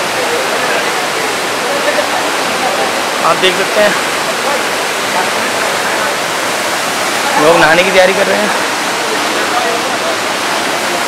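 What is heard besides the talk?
Bhatta Falls waterfall, water falling forcefully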